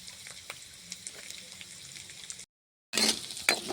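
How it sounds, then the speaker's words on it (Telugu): Cumin seeds crackle and sizzle in hot oil on a village kitchen stove, a steady near frying hiss that cuts out briefly, then returns louder and brighter. "నూనె అయితే కాగింది ముందుగా జీలకర్ర వేస్తున్నా"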